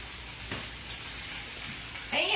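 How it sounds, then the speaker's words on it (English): Onion sautéing for tomato gravy gives a low, steady sizzle throughout, with a brief stir or clatter near the end, heard close up. "we'll saute this onion a little bit too"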